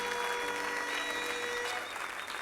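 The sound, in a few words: congregation applauding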